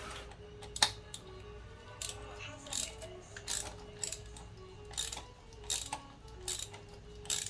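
A ratchet cranks out a spark plug on a Ford Focus 2.0-litre engine, a series of close, sharp clicking strokes in irregular bursts with quiet pauses between, no talk.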